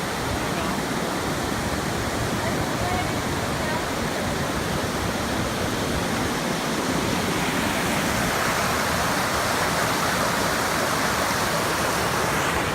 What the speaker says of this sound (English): Here's our river crossing